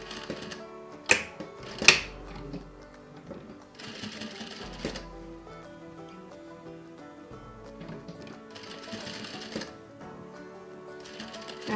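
A sewing machine stitches a shirt sleeve placket in several bursts of rapid mechanical whirring separated by pauses, with a couple of sharp clicks near the start and quieter handling noises between runs.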